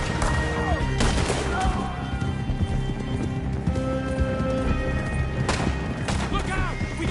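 Gunfire in a Red Dead Redemption 2 horseback chase, dense shots and booms mixed with galloping hooves, shouting voices and music, loud and continuous throughout.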